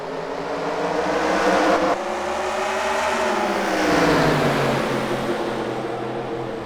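Race cars accelerating at a green flag restart of the Lake Erie 150 last-chance qualifier, a loud roaring engine drone with rising and shifting pitch as the pack pulls away, continuous throughout.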